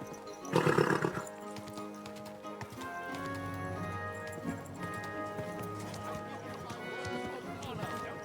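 A horse in Kingdom Come: Deliverance II gives a short loud whinny near the start, followed by steady hoof clip-clop and harness movement beneath a calm spoken voice.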